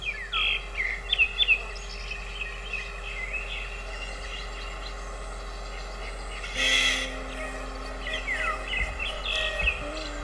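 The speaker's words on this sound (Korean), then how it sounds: "새들의 합창과 탄생 소리가 울려 퍼집니다" Several birds chirp and trill in a summer forest inside the Cheorwon Civilian Control Zone near the Korean DMZ, over a steady low hum, with a brief louder rustling burst partway through.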